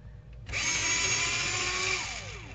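A pencil sharpener grinds down a short pencil nub in a single burst of about two seconds, a close, steady whirring that starts abruptly and drops in pitch as it winds down, with no talking.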